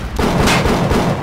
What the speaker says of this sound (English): I'm gonna go back into the random gunfire that I heard.